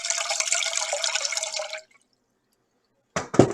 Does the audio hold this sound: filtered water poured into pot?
yes